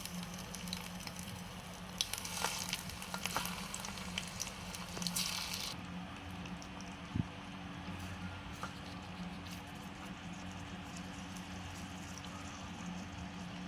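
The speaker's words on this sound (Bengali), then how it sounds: "এখন আমি গরম তেলে ভেজে নেব।" Shrimp frying in hot mustard oil in a wok, a steady close sizzle with crackling pops that busy the first few seconds, then a calmer continuous hiss.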